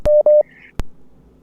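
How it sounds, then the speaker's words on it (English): Electronic beeping on a phone call line: two steady mid-pitched tones back to back, followed by sharp clicks and faint hiss, with no talking. "the beeping is still coming through"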